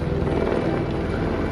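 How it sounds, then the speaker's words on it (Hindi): A passenger helicopter flies near Badrinath temple in the Uttarakhand mountains, a loud continuous rotor and engine drone with a dense, steady thrum that holds through the moment. "यहाँ हर आधे घंटे में हेलीकॉप्टर आते जाते रहते हैं।"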